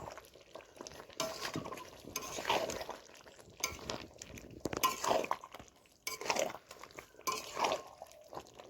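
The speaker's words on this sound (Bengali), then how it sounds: "নাড়িয়ে নেব একটু।" Chicken kosha being stirred in a pan, a close sequence of scraping, clinking spoon strokes against the metal with soft sizzling, the stirs coming in uneven bursts.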